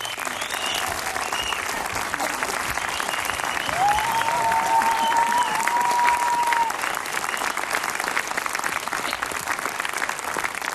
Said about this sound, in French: je vais demander de se lever pour qu'on les applaudisse.